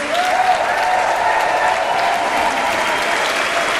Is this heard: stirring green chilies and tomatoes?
no